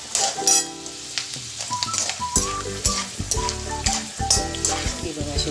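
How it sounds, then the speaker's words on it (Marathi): Peanuts frying in hot oil for thin poha chivda, giving a dense, continuous close sizzle with intermittent stirring clinks and scrapes. "शेंगदाणे परतून घेऊया"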